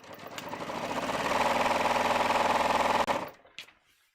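A sewing machine stitching along the original seam line of fitted pants runs in a quick, even burst of rapid needle strokes for about three seconds, then slows and stops with a couple of final clicks.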